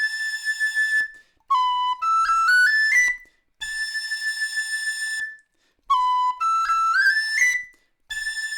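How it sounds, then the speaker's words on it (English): A tin whistle plays two similar phrases, each with a long held note wavering from finger vibrato and then quick stepped runs of notes; clear, close and solo. "when I'm doing the vibrato, it's just touching the side of the whistle"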